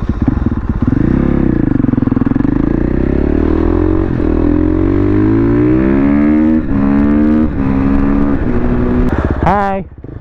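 A brand new supermoto dirt bike engine drones loudly up close while riding, its pitch rising and falling through repeated revs and gear changes, ending in a short sharp rev.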